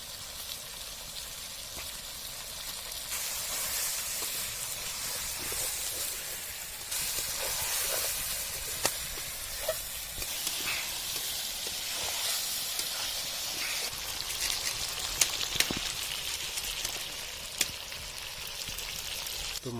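Spicy pork curry sizzles steadily in a hot pan as dry chili powder goes in, a continuous hissing fry with scattered crackles and pops, close and moderately loud with no talking.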